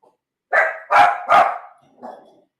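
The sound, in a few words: dogs barking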